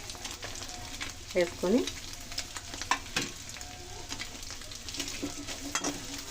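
Carrots and beans stir-fry over high heat in about two tablespoons of oil for restaurant-style egg fried rice. A soft, steady sizzle is broken by clinks and scrapes of the spatula, and a voice speaks briefly.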